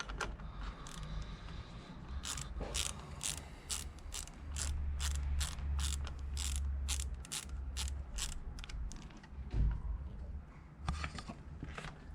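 Hose clamp being tightened on the turbo of a Renault Megane 2 1.5 dCi, with a steady series of crisp mechanical clicks over a low rumbling background that swells in the middle.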